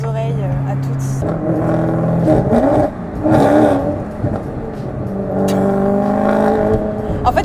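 A Maserati engine revs and accelerates, loud and close from inside the car, its pitch climbing and dropping through gear changes, with a person talking over part of it.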